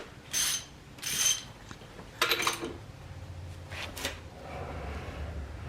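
A ratchet turns the crankshaft of an LS engine during rear main seal and cover installation, giving a few bursts of clicking ratchet strokes with gaps between them over a low background rumble.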